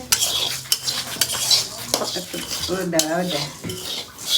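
Flattened rice (chira) frying in a pan is stirred with a metal utensil, giving repeated sharp scrapes and clinks against the pan over a soft background sizzle.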